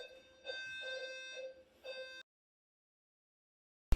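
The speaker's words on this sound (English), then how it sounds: "So our fire alarm went off," A harsh electronic fire alarm blares in pulsing bursts, loud and buzzy, then cuts off into silence before a brief thump.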